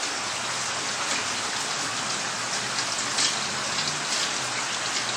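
Steady rain pours down outdoors, a dense, even hiss of drops striking surfaces that stays constant and fairly close for the whole stretch, with no voices.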